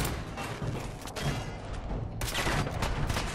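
Gunfire in Fallout 4 during a firefight at the Boston Public Library, rapid loud shots and thuds crowding the whole stretch, with a heavier burst near the end.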